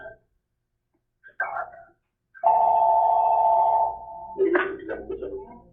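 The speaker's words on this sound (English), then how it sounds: "Okay, Juan, turn off your phone" A telephone rings during a city commission study session, a loud sustained electronic tone lasting over a second, with short bursts of sound and faint voices before and after.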